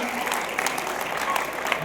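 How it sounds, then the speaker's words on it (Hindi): An audience at a live Hindi comedy poetry event for Mahaveer Jayanti claps together, a dense, steady burst of applause that runs throughout. "चाहूंगा भाई चंदन राय के सम्मान में दोनों हाथ ऊपर उठाकर तालियां बजाएं।"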